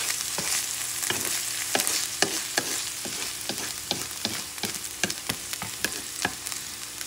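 Chorizo and boiled potatoes sizzle steadily in a frying pan while a utensil scrapes and stirs them in frequent, irregular strokes, close and fairly loud, with no talking.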